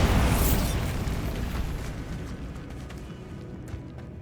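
A Bombarda spell blast in Hogwarts Legacy goes off as one loud explosion that roars at once and then fades slowly into a rumbling tail, with no talking.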